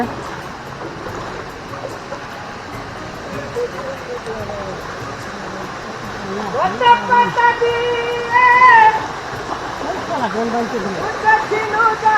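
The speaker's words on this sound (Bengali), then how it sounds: "পানির মধ্যে দিয়ে যাত্রা ঝিরি পথে।" Water rushes loudly and continuously along a forest stream on the trail to Khoiyachora waterfall as people wade through it. Voices talk over the steady flow.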